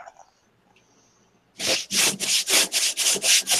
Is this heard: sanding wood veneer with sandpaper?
yes